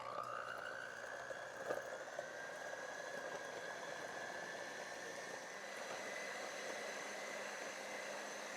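An electric mixer beats eggs, sugar and butter in a bowl for a marble cake batter, a steady close motor whir that rises slightly in pitch as it spins up, then holds evenly throughout with no talking.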